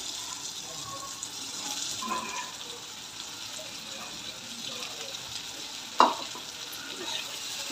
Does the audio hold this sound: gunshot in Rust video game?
no